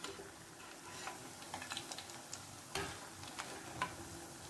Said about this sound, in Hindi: लो से मीडियम फ्लेम पर हमें इसे फ्राई करना है।